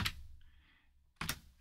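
Keys clicking on a computer keyboard as a plugin name is typed into a search bar, a quick burst at the start, a faint soft pause, then another sharp cluster of taps, close and alone.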